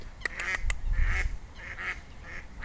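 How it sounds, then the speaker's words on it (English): Mallard ducks quacking at a reservoir, several short nasal calls in quick bursts, fairly close and moderately loud over a low outdoor rumble. "And there we have some mallards."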